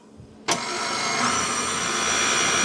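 An electric beater whisks a no-churn strawberry Oreo ice cream mixture, switching on abruptly with a sharp onset and then running as a steady, loud, continuous mechanical whir without talk.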